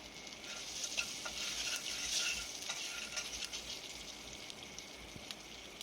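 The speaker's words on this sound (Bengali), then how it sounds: "দিয়ে এটাকে আমি একটু ভালো করে ভেজে নিচ্ছি" Okra frying with prawns and tomato in a pan, giving a steady, close hiss of sizzling oil with soft stirring scrapes throughout and no talking.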